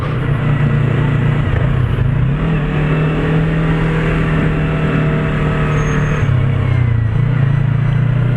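A Yamaha R25 motorcycle rides through Ankara city traffic, its engine a loud, steady drone close to the microphone with slight pitch shifts as the throttle changes, alone without talking.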